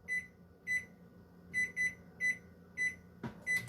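A kitchen microwave oven finishing with a series of short, bright electronic beeps, spaced in pairs and singles, followed by a brief clunk as the door opens.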